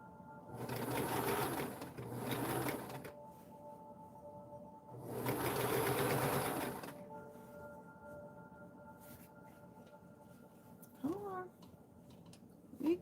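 A sewing machine eases fabric for a dress form cover in three close bursts of steady whirring separated by pauses, followed by quiet handling sounds and a brief squeak.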